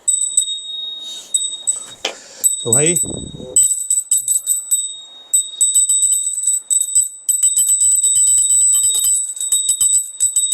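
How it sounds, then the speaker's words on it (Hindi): A hand bell rings in a carved temple in the Corbett forest area, bright metallic dings repeating rapidly and close, with someone speaking briefly between rings. "ये जो घंटी का जो साउंड आ रहा है यहाँ पे"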